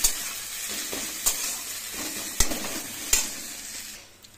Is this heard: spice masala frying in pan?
yes